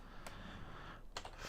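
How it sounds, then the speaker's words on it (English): Quick bursts of typing on a computer keyboard, a few sharp key clicks spaced apart, quiet and close against a low room hiss. "Let's try to type that again."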